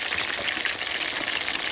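Escovitch fish sizzling in hot oil at around 350 degrees, a dense close crackle and hiss that stays constant throughout the short moment.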